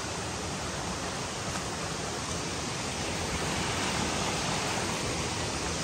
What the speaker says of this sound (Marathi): आज पाण्याचा प्रवाह थोडा कमी आहे